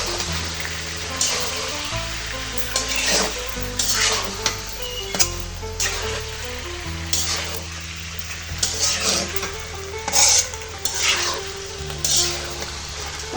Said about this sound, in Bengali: এখন আমি কিছুক্ষণ একটু তেলের ভিতরে আগে ভাজা নিব।